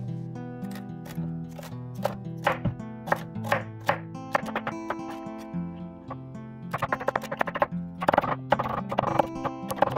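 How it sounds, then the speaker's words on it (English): A knife chops three stalks of celery into small pieces, giving a string of crisp, close chopping taps in an uneven rhythm over music, with quicker clusters near the end. "Three stalks of celery, cut into small pieces."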